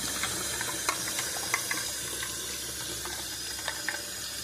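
Tap water running into a pot of Old El Paso Spanish rice, a steady faint hissing stream with small clicks and splashes throughout, no talking.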